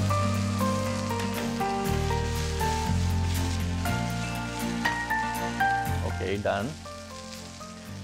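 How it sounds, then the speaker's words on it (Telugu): Prawns frying in hot oil give a steady sizzle under prominent background music, with a brief spoken remark near the end. "ఫస్ట్ ప్రాన్ ఫ్రై చేస్తున్నాం"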